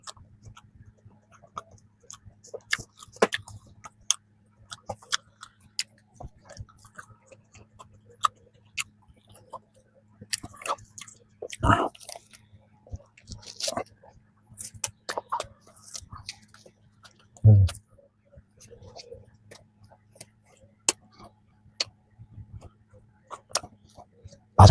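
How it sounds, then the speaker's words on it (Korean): Someone biting into a crispy, flaky strawberry danish pastry and chewing. Scattered soft crunches and sharp crackling bites stand out against near silence, with one louder bite midway and occasional quiet sounds between. "바삭 소리부터 미쳤다."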